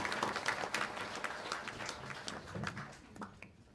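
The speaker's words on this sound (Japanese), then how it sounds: "今一度皆様大きな拍手をお願いいたします" An audience at a forum on ending nuclear power and promoting renewable energy gives a fairly faint, steady round of applause, with scattered claps carrying across the hall.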